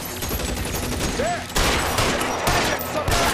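A flurry of gunshots in an L.A. Noire gunfight against mobsters, loud overlapping shots and bursts crowding together up close, with a voice mixed in beneath.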